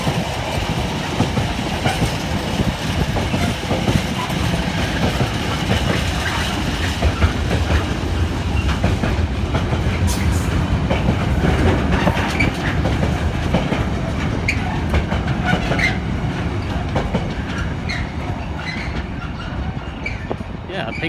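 A heavy freight train of 1,235 tons, hauled by a pink locomotive, rolls steadily past close by at Southampton Central station, wheels clattering and rumbling continuously with occasional metallic clicks and squeals.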